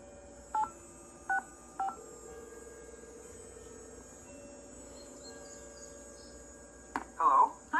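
Telephone dialing tones in the Nancy Drew game Ghost Dogs of Moon Lake: three short separate keypad beeps, then a long steady tone and a soft hum, followed by a burst of ringing near the end.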